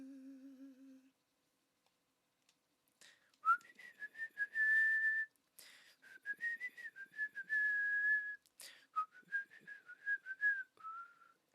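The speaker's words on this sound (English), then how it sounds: "I hope the whistling doesn't sound terrifying through my microphone." A person whistles a meandering tune in short phrases and held notes, close and clear against near silence, after a brief low hum at the start.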